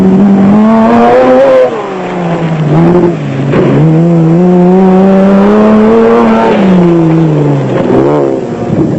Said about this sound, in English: The Jeep of Hooft and Abraham has got past the Dakar Pajero of Carolyn and Tostiga and was closing on Barker's Land Rover